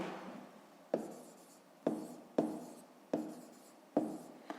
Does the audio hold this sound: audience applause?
no